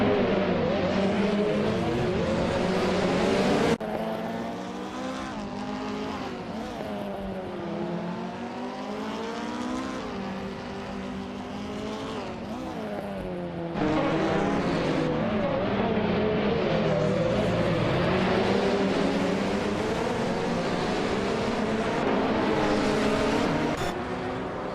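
Race cars from a racing video game roar continuously around the track, engine pitch rising and falling in sweeping harmonics as several cars battle closely, loud and sustained with an abrupt shift in the mix partway through.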